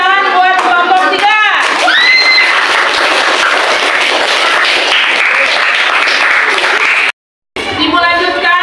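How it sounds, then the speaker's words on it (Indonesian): Classroom applause for group 3 after their presentation in an Islamic religious education lesson; a teacher's voice leads into loud, sustained clapping from the whole class that cuts out abruptly, then speech resumes. "Tepuk tangan buat kelompok 3."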